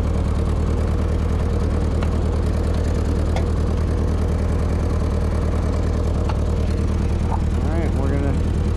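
A Ford 8N tractor engine runs at raised throttle, a steady close chugging drone that carries on throughout, with a few faint knocks and a person's voice toward the end.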